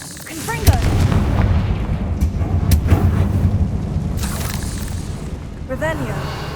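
A Confringo fire spell bursts in Hogwarts Legacy with a loud boom, followed by rumbling blasts and crackles, while a voice calls out over the effects.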